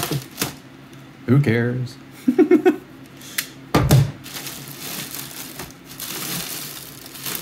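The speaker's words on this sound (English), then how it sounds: "And I'll just rip open the bag. Cut it open." A plastic bag is torn and cut open with a knife, making short sharp ripping and crinkling bursts between spoken remarks from a nearby voice.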